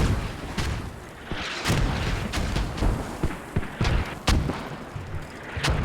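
Mortars launching in the video game Squad, a steady barrage of loud thumping booms and sharp cracks at irregular intervals over a constant rumbling battlefield din, with no talking.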